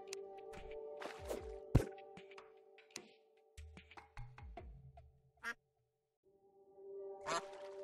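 Ducks at a pond in the video game Terraria quack in short, separated bursts amid quiet game ambience, with a few knocks and a later burst of quacking near the end.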